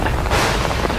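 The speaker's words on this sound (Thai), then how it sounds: "มีฟ้าผ่าด้วย" A short, loud boom of thunder from lightning in a storm in Orlando, a single broad crack filling the moment, with no talk.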